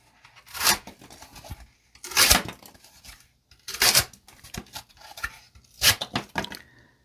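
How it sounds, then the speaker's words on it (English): A Flissa folding EDC knife with a D2 steel blade slicing through cardboard: four rasping, tearing strokes, each a loud rough scrape with smaller scratchy sounds between, up close with no speech. "Let's finish up by cutting through some cardboard."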